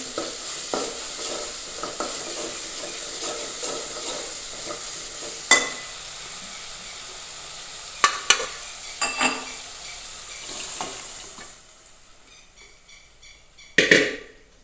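Boiled chana dal stirred into masala frying in oil, with a steady close sizzle and sharp spoon-on-pan scrapes and clacks at irregular intervals, ending in a loud clatter.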